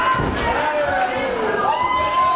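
A wrestling crowd at a live show roars loudly and steadily, a dense wall of cheering and shouting mixed with voices close by.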